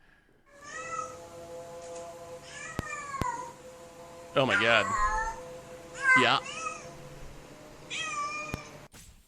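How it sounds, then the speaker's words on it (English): A recording of a cat's mating call plays: drawn-out, wavering yowls rising and falling in pitch, with a few loud bursts, while people react with brief exclamations over it. "Now we got to see what cat yelling sounds like."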